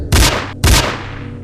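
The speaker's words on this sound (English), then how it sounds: "The dog ran towards him but was shot down by the officer." Two loud gunshots ring out about half a second apart, each a sharp broadband crack with a booming tail, fired by a police officer at a charging dog, with no talk over them.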